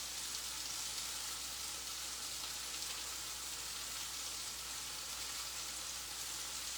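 Crispy honey shrimp frying in a pan, a steady soft hiss of hot oil sizzling continuously and fairly faint, with no voices.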